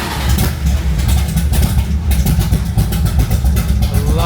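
A 1969 Chevelle SS 454 muscle car engine runs loud and steady, with a dense low rumble throughout and a few sharper rev bursts near the end.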